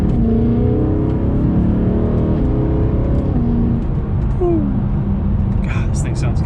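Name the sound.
BMW M3 car engine revving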